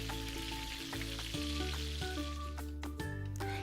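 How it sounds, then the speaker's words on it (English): Pork ribs deep-fry a second time in hot oil in a wok, a steady dense sizzle and crackle close by, with faint tonal hum underneath and no talking. "add the ribs back in to fry for a second time"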